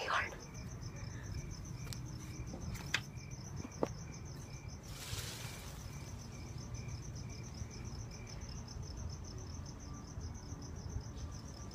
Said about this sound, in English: Freaking crickets, you're so annoying